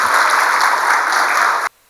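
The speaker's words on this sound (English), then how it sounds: "Please give him a big round of applause." An audience at a professional forum gives a speaker loud, steady applause, a dense wash of clapping that cuts off sharply after under two seconds.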